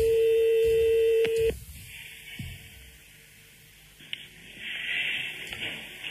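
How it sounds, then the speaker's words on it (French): A telephone placing a call back, a steady tone and dialing beeps that cut off abruptly, followed by faint line noise and a soft ringing tone on the handset. "Bon, on la rappelle."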